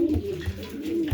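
Pigeon cooing at close range, a domestic breeding bird from a loft, giving soft low throaty coos in three brief pulses over a steady murmur.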